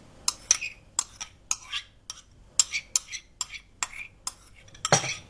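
A spoon mixes rice flour batter with yogurt and yeast for homemade jalebi. It knocks against the bowl in about a dozen close, irregular clinks and scrapes, with no talk.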